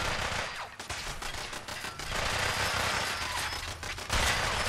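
Gunners firing weapons in Fallout 4, sustained heavy bursts of gunfire filling the scene with little pause, loud and close.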